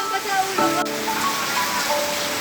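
Heavy rain pours down in a steady, dense hiss of drops on surfaces, with faint voices and tonal sounds mixed in underneath.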